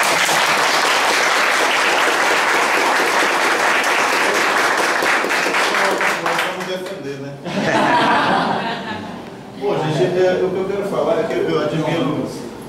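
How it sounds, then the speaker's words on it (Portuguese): A theater audience gives a loud round of applause at a cultural event, dense clapping filling the first half before fading, then a voice speaks with brief bursts of laughter and clapping between phrases. "uma salva de palmas"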